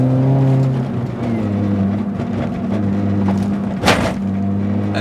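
R53 MINI Cooper S hatchback with tired suspension driving at speed: steady loud engine drone with harmonic tones shifting through the run, plus a brief rattly bump near the end, with no voices.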